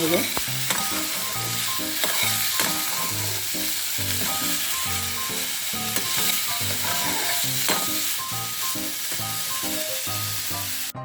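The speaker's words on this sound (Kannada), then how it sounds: "ನಾವೀಗ ಚೆನ್ನಾಗಿ ಕಲಿಸ್ಬೇಕು ಮಿಕ್ಸ್ ಮಾಡ್ಕೋಬೇಕು" Radish palya stir-fry is stirred and mixed in a hot pan, a loud continuous sizzle broken by a regular rhythm of scraping and clacking spoon strokes, with no voices.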